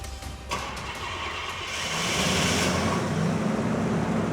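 A car's starter motor cranks after being set off by remote control from a safe distance, a steady grinding whir that swells louder midway and holds, with no voices.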